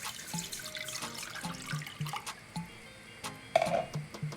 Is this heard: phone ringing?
no